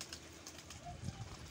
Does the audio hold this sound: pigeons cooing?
yes